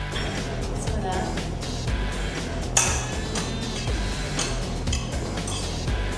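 Mung bean sprouts being tossed with sauce in a bowl for raw Thai spring rolls, giving soft, continuous clinks and scrapes of utensils against the dish under steady talking.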